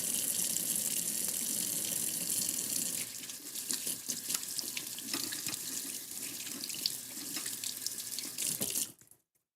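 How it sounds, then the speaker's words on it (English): Tap water gushes steadily into a kitchen sink during hand washing, close and continuous, then stops abruptly at the end. "I'm gonna wash my hands."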